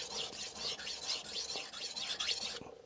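A knife is sharpened on a Shapton Kuromaku whetstone: rhythmic, raspy strokes of steel scraping across the stone, about a dozen close back-and-forth passes that stop just before the end.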